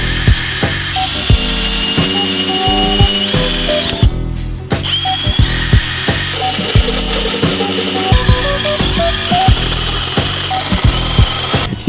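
Power drill boring a hole for a hydraulic handbrake stud on a V8 drift truck, loud and continuous with a brief pause near the middle and repeated bursts of whining, no talk.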